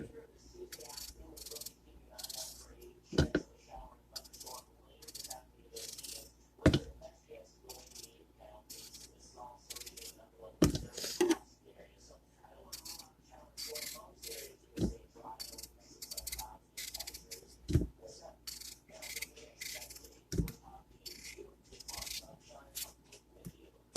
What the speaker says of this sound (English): I'm going to just cut it in half, and then I'm going to just start wedging it